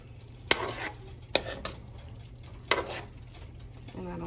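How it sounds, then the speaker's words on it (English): A spoon stirs and scrapes gravy in a pot on the stove, with a few sharp clinks against the metal over a low sizzle, close up and fairly quiet. "Keep stirring it. Otherwise, you will burn your gravy."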